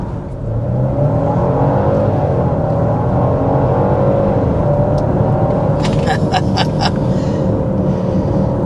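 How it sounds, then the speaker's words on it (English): A 2026 Genesis GV70 Sport Plus pulls away hard from a stop, its engine roar building steadily and loudly through the whole run, with a few brief high chimes near the end. "So that was a Sport Plus acceleration from a stop there."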